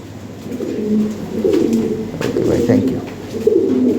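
Bloodline fancy pigeons cooing in low, throaty bursts throughout, fairly close, with some background murmur.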